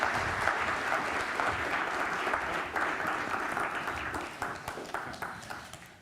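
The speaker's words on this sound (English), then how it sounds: "Let's give them a very big hand of applause." An audience at a cycling summit forum in Copenhagen applauds steadily for several seconds, a dense clatter of many hands that gradually thins and fades out.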